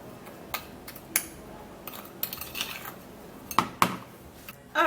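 A homemade lipstick mix is scooped into a very small container, making light clinks and taps of a utensil against the vessel, scattered and close, ending in a louder knock.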